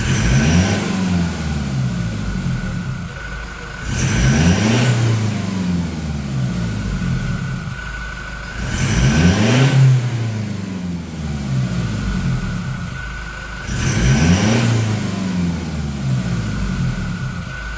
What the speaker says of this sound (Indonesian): Sekarang saya akan coba akselerasi ya dari ini rpm di bawah 1000 sampai ke 3000 ya